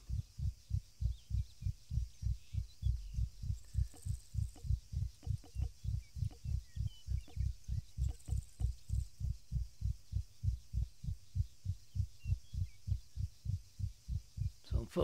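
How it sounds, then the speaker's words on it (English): Steady, rhythmic heartbeat effect from the Arma 3 video game, with strong low thumps pulsing regularly throughout and a faint airy hiss above. "Hear the heartbeat going."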